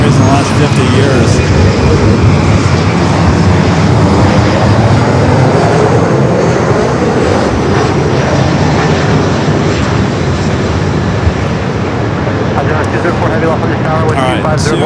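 Heavy jet airliners arriving on the north side at Los Angeles International Airport, a loud continuous broadband engine roar that stays steady throughout, with voices talking over it.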